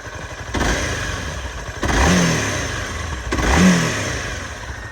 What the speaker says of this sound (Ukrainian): чистенько, рівненько працює, без, без ніяких абсолютно питань